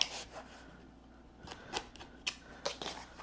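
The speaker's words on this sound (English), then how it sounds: "All right, time to trim the zippers down." A blade trims zippers on a small sewing project, giving a few soft, scattered snips and rasps close by with quiet pauses between them.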